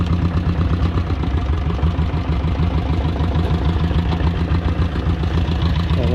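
A diesel Royal Enfield Bullet fitted with a cargo bed idles nearby, its loud, steady low-pitched thumping clatter running throughout with no talk.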